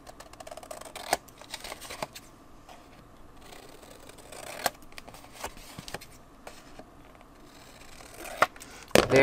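Paper for a book cover being cut with a book cover guide: scattered soft snips and sharp ticking clicks at irregular intervals, close and fairly quiet, with a louder cluster of clicks near the end.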